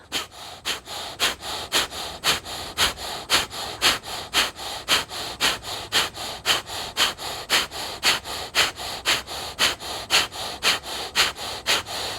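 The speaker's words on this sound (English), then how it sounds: "forcefully drawing the belly in, pushing the air out of your nose" Rapid, forceful nasal exhales of breath of fire yoga breathing repeat in a steady, fast rhythm of about two or three per second, close and clear, with no talking.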